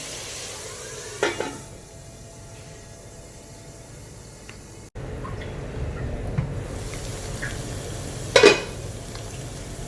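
Onions frying in a pan for a restaurant-style masala chicken, with a steady soft sizzle and a couple of brief stirring scrapes, close and with no talk.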